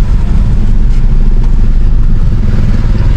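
Road traffic jam in Xieng Khouang, Laos, with car and motorcycle engines idling and creeping forward in a loud, continuous low rumble and close clatter, unbroken throughout with no voices.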